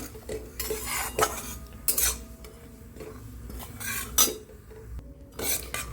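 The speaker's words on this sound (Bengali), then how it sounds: "সুজিটা আরেকটু ভাজা হবে" Semolina roasted in a pan and stirred, repeated scraping and clinking of a metal spoon against the pan over a low sizzle, close and fairly loud, no speech.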